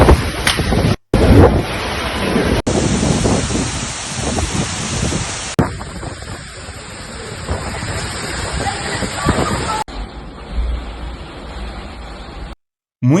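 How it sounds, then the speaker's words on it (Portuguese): Heavy rain during a thunderstorm in Moscow, a dense continuous hiss of downpour with wind buffeting the microphone, broken by a few abrupt cuts between segments. "Muita chuva, muita tempestade, não consta que tenha tido nenhum grande dano"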